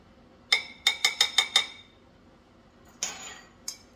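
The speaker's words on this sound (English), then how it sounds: "I'm just going to give it a quick little whisk" A whisk mixing baking soda into all-purpose flour strikes the bowl in six quick ringing clinks, then after a pause gives two more taps, close and clear with no talking.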